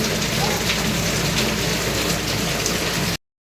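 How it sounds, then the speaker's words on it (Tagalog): Heavy rain pouring steadily in a dense, loud hiss that continues without pause, then cuts off abruptly near the end. "Wala, lakas ang ulan."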